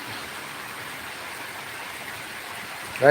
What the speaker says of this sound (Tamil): செம்ம மழை பெய்யுது